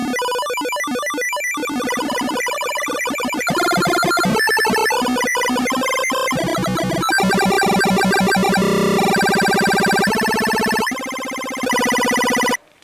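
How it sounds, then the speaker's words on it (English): Korg Gadget Kingston chiptune synth playing a fast arpeggiated line with a weird rapid LFO wobble, bright buzzy square-wave tones stepping through changing patterns, loud and continuous with no talking. "You get that really weird, fast, kind of LFO ray kind of sound"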